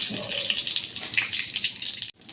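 Cumin seeds sizzle in hot oil in a wok, a steady close crackling hiss that runs evenly and then cuts off abruptly near the end.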